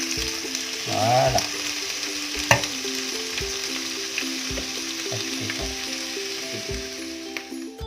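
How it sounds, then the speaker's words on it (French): Mushrooms sauté in a frying pan with a little salt, giving a steady close sizzle broken by occasional stirring scrapes, and a voice briefly speaks over it. "on va faire revenir les champignons. Les faire pré-cuire."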